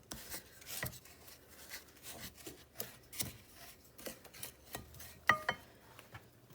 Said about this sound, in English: a half a cup of dark brown sugar, packed. Okay, you just kind of want to mix those up together.